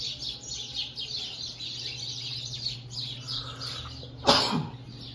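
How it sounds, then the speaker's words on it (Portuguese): Small birds chirp in a quick, repeated run of high twitters at moderate distance, followed near the end by a short, louder rasping burst like a cough. "Olha os passarinhos."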